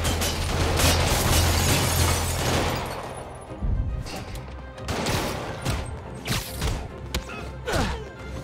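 Henchmen open fire on Spider-Man during a safe robbery in Spider-Man Remastered, a loud burst of rapid gunfire followed by scattered shots, thuds and impacts.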